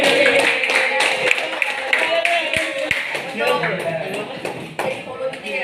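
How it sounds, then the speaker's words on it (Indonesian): Junior high students clap in a classroom, a short scattered round of hand claps mixed with chatter and voices. "tepuk tangan dong buat apa tadi?"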